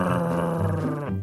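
A low, rumbling dog growl from the Minecraft video game sounds steadily and close for just over a second, shifting pitch slightly near the end.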